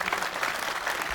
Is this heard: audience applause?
yes